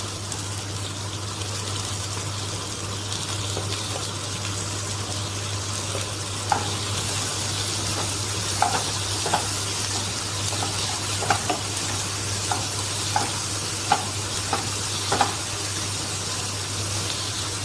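Tomatoes sizzle and fry in a pan for paneer bhurji, giving a steady, close hiss throughout with occasional light clicks of a spatula stirring.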